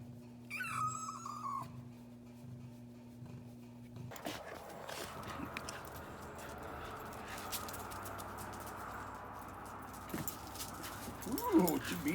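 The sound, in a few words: kittens mewing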